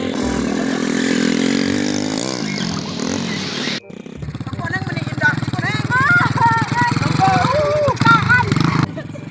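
A motorcycle engine idles and revs in uneven bursts close by, with people talking over it throughout.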